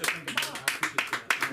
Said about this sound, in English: Give a warm round of applause for Garrett.